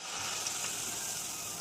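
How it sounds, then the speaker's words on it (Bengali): Malpua frying in hot oil, a steady close sizzle running through the whole moment with no voices over it. "দেখলেই মালপোয়া ভাজা হয়ে গেছে।"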